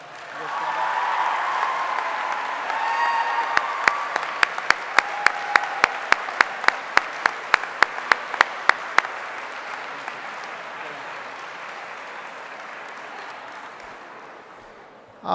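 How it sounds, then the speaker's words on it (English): Audience at an alumni awards ceremony applauding four recipients as they stand, a moderate continuous round of clapping with a string of sharp, close individual claps partway through, easing off toward the end. "can we give them another round of applause?"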